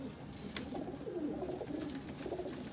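A Ferozpuri pigeon, a breeder bird, coos in soft, low repeated murmurs from close by, with a brief sharper sound near the start and no talking.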